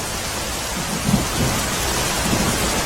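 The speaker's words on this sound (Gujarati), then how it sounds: "પર્વત પર ભારે વરસાદ પડી રહ્યો છે" A torrential downpour falls over the hills and village streets of Sardoi near Modasa in Gujarat's Aravalli district, a loud, dense roar of rain with low rolling thunder rumbling beneath it, steady and close throughout.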